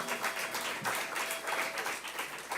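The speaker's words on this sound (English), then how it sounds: "Let's give them a big hand." Audience applause at the Boones Creek Opry, a dense, steady wash of many hands clapping that stays fairly even and moderately loud throughout, with no talk over it.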